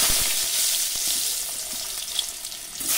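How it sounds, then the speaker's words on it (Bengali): Brinjal frying in hot oil in a kadai, a loud, dense, continuous sizzle that stays steady throughout with no voices. "বেগুনটা ভেজে নেব"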